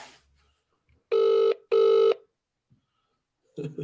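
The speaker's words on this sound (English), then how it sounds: "Who are you ringing now?" Two rings of a telephone, each about half a second long with a short gap between, followed by brief muffled sounds.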